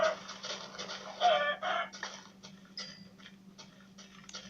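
Minecraft chicken clucking in short, choppy bursts against a steady background hum, with faint game clicks mixed in.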